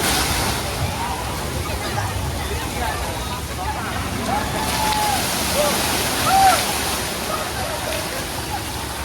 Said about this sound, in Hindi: इस बाल्टी से पानी गिरेगा